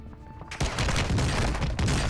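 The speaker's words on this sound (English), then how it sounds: "I think I'm getting shot by a weird person." Gunfire bursts out in Call of Duty Warzone 2, a dense, loud barrage of rapid shots cutting in abruptly after a quiet half second and continuing almost without pause.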